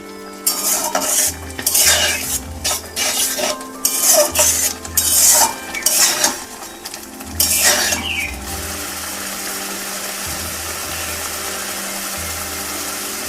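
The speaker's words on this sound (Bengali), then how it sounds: "সব কিছুকে ভালোভাবে মিশিয়ে নিচ্ছি" A spoon stirs Bengali-style tomato chutney in a pan. Repeated scraping and clattering strokes run for about eight seconds over a soft sizzle, then give way to a steady, quieter simmer.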